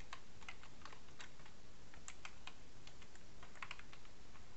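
Typing on a computer keyboard while setting up email in Outlook Express gives rapid, irregular keystroke clicks, faint and close, over a steady background hiss with no talking.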